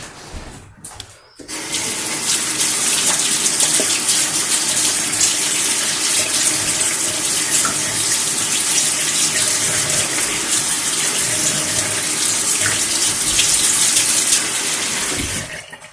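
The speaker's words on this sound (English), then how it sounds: "let me wash off my hands a minute here" Hands being washed under a running tap, a steady loud gush of water starting after a brief pause and continuing without break, close to the microphone.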